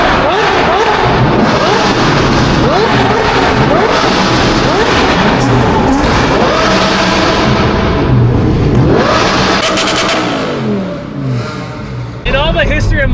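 An Audi R8 V10 revs hard through its exhaust under a Miami bridge, loud repeated rising and falling blasts that echo off the structure, with excited voices and shouting mixed in.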